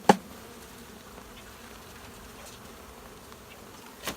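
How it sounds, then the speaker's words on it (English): Honey bees buzzing around a newly settled beehive in Northern Illinois: a steady, low, close hum with a sharp knock at the start and another thump near the end. "I'm your friend, bees. I'm not afraid of you."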